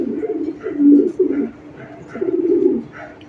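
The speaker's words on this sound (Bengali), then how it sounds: "বিশাল সাইজের কবুতর ভাই, বিশাল সাইজের কবুতর।" A large racing pigeon coos close by in soft, throaty bursts repeated several times over a few seconds.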